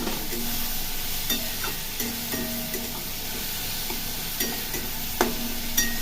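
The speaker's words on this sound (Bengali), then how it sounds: "মশলাটা একটু ভালো করে কষাতে হবে" A spice masala with ginger is stir-fried in a pan, with a constant low sizzle broken by occasional scraping and tapping from a spatula, heard close up with no voices.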